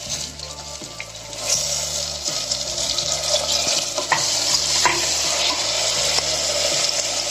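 Chopped tomatoes tipped onto soft sautéed onions in a pot for mutton biryani, frying with a steady hiss while a spoon stirs in repeated scraping strokes, the sizzle swelling slightly partway through; no one speaks.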